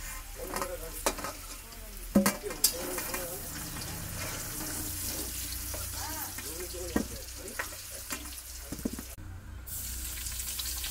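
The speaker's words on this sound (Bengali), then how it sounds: "কড়াই পেঁয়াজ দেওয়া হয়ে গেল, পেঁয়াজটা এবার লাল লাল করে ভেজে নেওয়া হবে" Onions fry in a wok with a steady sizzle, broken by scraping spatula strokes and a few sharp metallic knocks, while faint voices murmur in the background.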